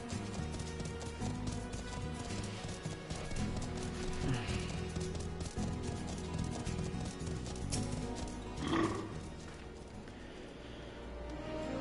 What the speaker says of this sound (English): Someone's riding a lightning horse over there.